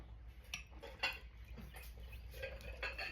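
Two small blue bowls being taken down in a home kitchen, with a few light clinks and knocks of dishware over a steady low hum.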